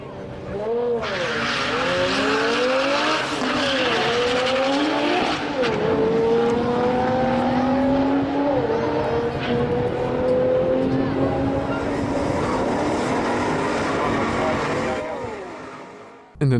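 Toyota Supra and Nissan Skyline GTR race cars accelerating hard on a track, with loud rising and falling engine howls through gear changes, tire squeal and crackling exhaust, sustained and close throughout.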